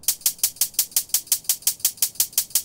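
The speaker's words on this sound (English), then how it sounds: "lastly, I've got this hi-hat sound hitting on the 16th note" A drum and bass hi-hat ticks steadily on 16th notes, about a dozen crisp, bright, closed hits in an even, close, loud rhythm with nothing else underneath.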